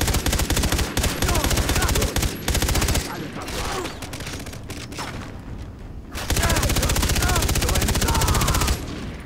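Rapid automatic gunfire in the video game Far Cry 3: loud, dense bursts of shots that pause briefly midway and then resume at full intensity, with a voice talking over part of it.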